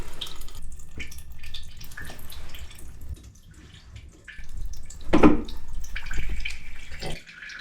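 Water runs and splashes from an unbled supply line during a toilet installation in a bathroom remodel, with intermittent gushes and drips swelling to a louder burst before trailing off.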